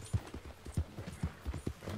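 Horse hooves clip-clop at a steady walking rhythm in Red Dead Redemption 2, a run of distinct, fairly close thuds with faint background noise and no talk.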